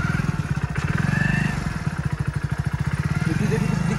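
A motorbike being ridden at night, its engine putting out a steady throbbing, mid-pitched drone close by throughout, with people talking over it.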